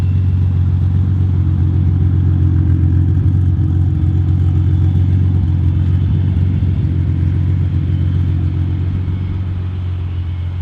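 Datsun 280Z with fuel injection and a Fujitsubo-style muffler idling quietly, a steady low rumble held evenly throughout with no revving.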